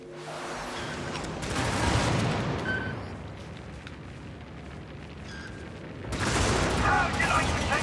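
Artillery barrage in the video game Helldivers 2: rumbling explosive blasts swell loud in a thick roar, ease into a lower rumble, then surge again near the end.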